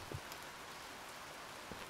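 Storm rain falls in the horror video game Home Of Zombie Jill, a faint, steady wash of downpour with a couple of soft low thumps and no talk over it.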